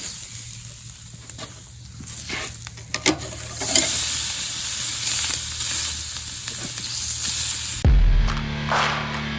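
Steak searing on a hot grill before smoking, a crackling sizzle with a few sharp clicks and handling knocks, rising to a loud steady hiss that cuts off abruptly near the end, followed by a low rumble and quieter sizzle.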